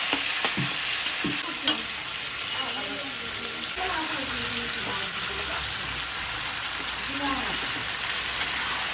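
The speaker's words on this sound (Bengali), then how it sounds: "মাছের মশলা কষানো হচ্ছে" Fish masala sizzles steadily as it is sautéed in a home kitchen pan, a continuous frying hiss with occasional stirring scrapes, while a voice talks intermittently over the cooking.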